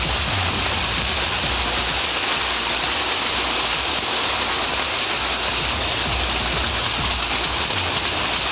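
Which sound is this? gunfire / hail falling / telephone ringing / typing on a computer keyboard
hail falling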